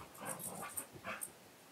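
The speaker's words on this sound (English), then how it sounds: "as my roommate's dog chases her tail" A dog chasing her tail indoors, heard as faint panting, snuffling and soft whimpering noises close by, with no one talking.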